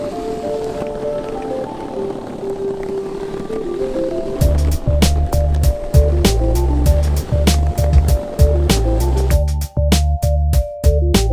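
Meepo Kicktail electric skateboard rolling on a street, a steady rumbling road roar with engine-like whine, followed by loud rhythmic thumps and clacks as the wheels cross pavement seams, close and continuous.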